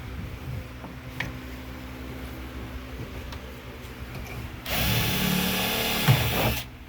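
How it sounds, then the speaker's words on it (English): Power drill boring pilot holes for 1.25-inch screws, a steady loud whir rising sharply near the end, with faint clicks and workshop hum before it. "Drill my pilot holes."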